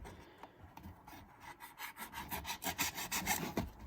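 A package of Alpha Chemical products is shaken by hand, its broken contents rattling and scraping inside in a steady, building series of gritty rubs that grow louder toward the end, close up with no talking.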